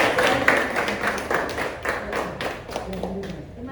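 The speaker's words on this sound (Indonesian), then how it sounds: "Ya, mohon tepuk tangannya." Seminar audience at a civil-servant orientation event in Surakarta clapping, a steady scattered patter of hands lasting a few seconds at moderate loudness, with some voices murmuring underneath.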